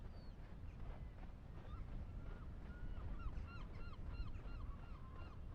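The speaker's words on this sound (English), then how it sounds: "There's seagulls." Seagulls call over a beach area in the video game Lifeless Moon, a string of short honking cries repeating over a constant windy, surf-like background wash, fairly faint and distant.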